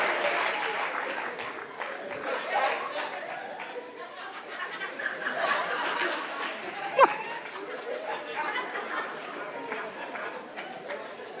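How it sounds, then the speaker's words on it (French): An audience at a comedy stage show applauding, with a steady wash of clapping mixed with crowd chatter and a little laughter. "sous vos applaudissements"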